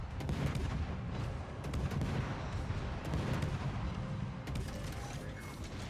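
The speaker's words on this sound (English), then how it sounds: "I'm heading to a position where I can keep firing on the Yami" Warship guns boom repeatedly in a naval battle in World of Warships, a steady barrage of dull distant blasts layered over continuous low rumble, with no voices.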